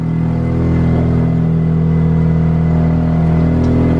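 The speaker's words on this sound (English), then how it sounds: "It sounds to have a little bit of an exhaust leak as well." A 2004 Mini Cooper S engine runs steadily at close range with a low, droning hum and a slightly raspy exhaust note from an exhaust leak throughout.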